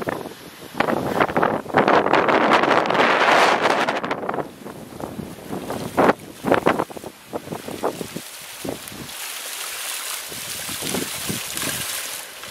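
Strong wind gusts batter the microphone beside a seaside villa pool on Barbados's west coast, with loud roaring rumbles early, then choppier buffets while a person talks intermittently.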